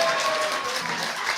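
Audience at a live stand-up comedy session breaking into brief, dense applause, a continuous even burst of clapping with faint crowd murmur underneath.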